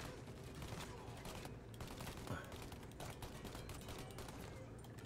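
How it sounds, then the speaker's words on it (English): A Tommy gun fires in the video game Mafia: Definitive Edition, with rapid automatic bursts that sound steady and thin amid continuous game noise. "Why is the Tommy gun so pathetic?"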